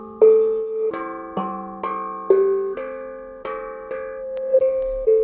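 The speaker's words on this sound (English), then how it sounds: "It's based on sort of a hand drum, a pan drum kind of thing." Melodic pan-style hand drum with no effects, played as a short loop of struck, ringing pitched notes with a metallic bell-like decay, about one note per half second, dry and close.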